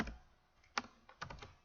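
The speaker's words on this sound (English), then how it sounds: "let me type this out first, because I don't do too well when I try to talk and type." Brief burst of typing on a computer keyboard, a handful of quiet, close keystrokes clicking in an irregular cluster with no talking.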